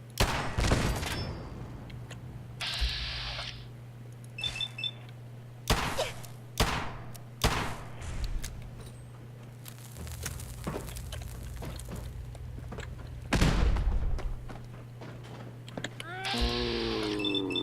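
Gunfight against gunners in Fallout 4: repeated loud gunshots and thuds burst out at irregular intervals over a steady low hum, with game effects between volleys and no talk.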